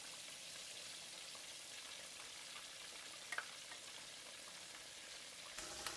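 Continuous crackling sizzle of leaves frying in hot oil, a dense hissing texture with a few small pops, fairly quiet and close.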